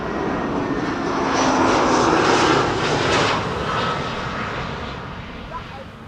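An airliner arriving on runway 36 at Amsterdam Schiphol Airport, a loud, sustained engine roar that swells and then slowly eases, heard from the ground with speech faintly mixed in.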